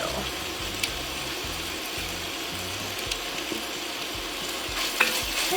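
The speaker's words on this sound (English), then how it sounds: "Just stir that in." Garlic stirred into onions sautéing in a soup pot for ham and bean soup, a low steady sizzle with soft spoon scrapes and a few light clicks near the end, no talking.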